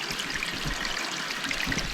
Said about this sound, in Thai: มันมีตาน้ำไหลออกจากแถวนี้นี่เนาะเห็นบ่